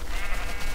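A single brief sheep bleat from Minecraft, close and alone.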